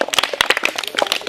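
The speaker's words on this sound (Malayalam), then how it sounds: "Correct answer, KitKat. ഒരു ക്ലാപ്പ് ചെയ്തേ." Schoolchildren at Kannom L P School clap in a quick, ragged burst of sharp hand slaps close by, mixed with excited young voices.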